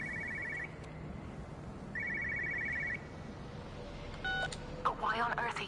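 A telephone rings with two trilling electronic bursts separated by a pause, followed by clicks and rising tones, inside the game Everybody's Gone to the Rapture, over a low ambient drone.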